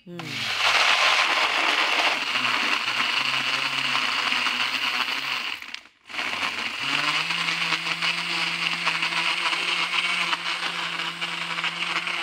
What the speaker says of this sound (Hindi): अब हम इसको कर लेंगे ब्लेंड।